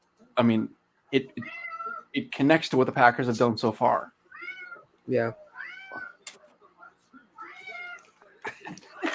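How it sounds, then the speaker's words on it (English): A pet cat meows several times in short, close, drawn-out calls that cut in between casual chatter on a live online call. "You guys hear the cat?"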